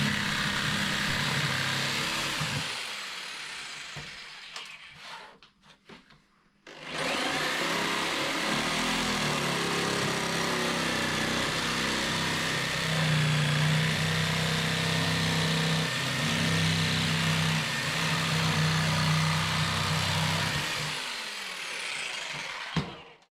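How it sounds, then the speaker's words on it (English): A jigsaw cuts a plastic windscreen for a DR650 motorcycle with a loud, steady buzzing drone. It stops briefly early on, then runs continuously for a long stretch before winding down. "it's important not to go too fast with your jigsaw speed, because instead of cutting you end up melting the plastic"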